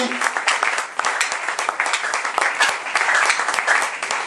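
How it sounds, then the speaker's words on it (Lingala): A church congregation applauds loudly and steadily, with dense continuous clapping and some voices mixed in throughout. "Acclame plus fort pour la gloire du Seigneur."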